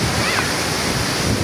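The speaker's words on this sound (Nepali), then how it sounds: "म झर्ना देखाएको छु" A waterfall roars as a dense, constant rush of water close by, mixed with gusty wind buffeting the microphone.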